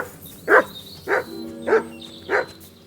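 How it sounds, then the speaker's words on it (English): A dog barks in Kingdom Come Deliverance II, four evenly spaced, clear single barks about half a second apart, close and prominent over a quiet background. "Good dog, Mats"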